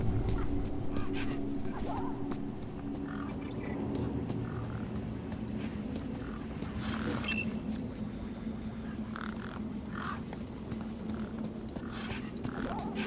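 Geese or similar birds honk in Beyond a Steel Sky, repeated cackling calls scattered over a steady engine-like drone and game ambience, moderately near without much rise above the background.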